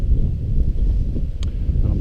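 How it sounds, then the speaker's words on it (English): Gusting wind on Blencathra's open fellside at a wild camp, a steady low roar buffeting the microphone without pause, with one brief faint higher rustle partway through. "Oh, wind's picking up"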